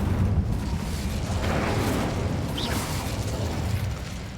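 The Incendio fire spell roars out in Hogwarts Legacy as a steady, whooshing burst of flame with low rumbling that holds loud throughout, and nobody speaks over it.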